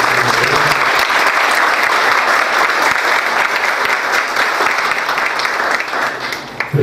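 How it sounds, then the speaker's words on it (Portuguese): An audience at a launch event for the Expofred 2016 fair gives a round of applause, a loud, dense burst of many hands clapping that stays strong and steady, then trails off near the end. "Por favor, uma salva de palmas."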